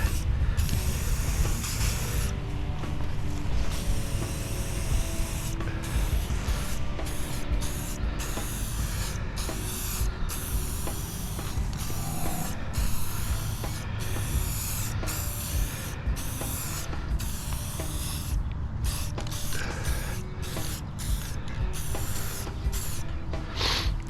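Screws are spray painted in a steady, continuous hiss of spray that runs for the whole stretch, close and fairly loud, broken only by brief gaps, with no voices.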